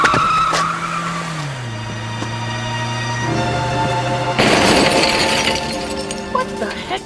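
Radio drama sound effect of a cab skidding and crashing: a loud, sustained tire squeal that bends in pitch, then a sudden crunching crash of metal and shattering glass, with debris settling after.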